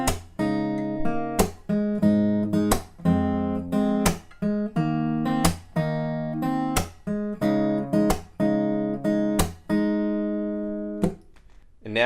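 Picked acoustic guitar runs through the second chorus riff of a song, a steady rhythmic pattern of close, bright plucked notes repeating for about twelve seconds without talk.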